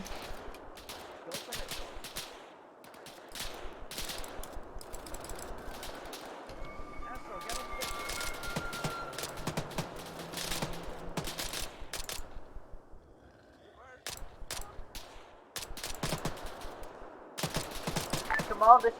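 Gunfire in the military game Arma: repeated bursts of automatic fire and scattered single shots crackle throughout at varying distances, with radio-style voices talking between and over the volleys.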